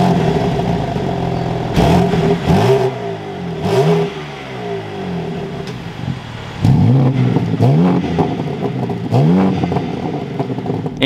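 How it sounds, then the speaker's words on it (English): 2024 BMW M4 Competition engine starting and revving, a loud close exhaust with a sharp start-up bark, a settling idle, then repeated quick revs swooping up and down in pitch, no talk. "let's start this up now and take another listen to this M4."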